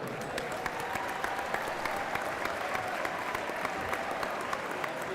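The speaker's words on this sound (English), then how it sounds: "You can give him a round of applause." Steady applause from an audience greeting a contestant being introduced at a high school three-point shooting competition, sustained clapping filling the whole stretch at moderate distance with no talk over it.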